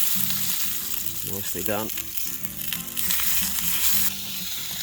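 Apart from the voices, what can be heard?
fat sizzling as it is put in a hot pan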